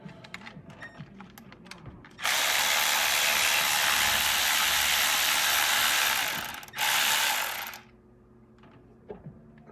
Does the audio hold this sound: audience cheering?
no